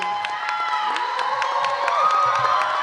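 An arts awards crowd cheers and claps for an honoree at a fashion-themed gala, with whoops and shouts over scattered applause and a loud, lively mix of voices.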